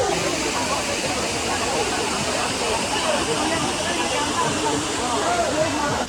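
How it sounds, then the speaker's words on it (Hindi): Lihonjar waterfall in Karbi Anglong pours from a great height, making a constant broad roar and hiss of rushing water with a voice speaking over it. "पानी का जो साउंड सुन सकते हैं गाइस इतना"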